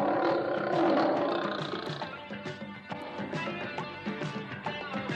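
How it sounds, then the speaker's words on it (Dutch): A lion's roar, the lion character from The Wizard of Oz, swells loud and rough for about two seconds, then fades into a steadier, rhythmic layered background. No one speaks. "Het is een leeuw."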